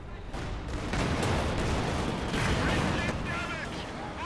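Panzerwerfer rocket artillery barrage in Company of Heroes 2, a continuous rumbling mix of launches and explosions at moderate volume, with other combat noise and a commentator's voice over it.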